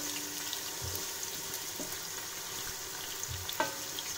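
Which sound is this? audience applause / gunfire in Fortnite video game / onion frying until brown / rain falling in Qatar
onion frying until brown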